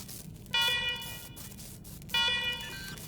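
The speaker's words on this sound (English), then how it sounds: "let's shut off this damn alarm" Alarm ringing in the video game Wasteland 3: two loud, steady electronic tone bursts with a buzzing, horn-like character, the second sounding after a short pause.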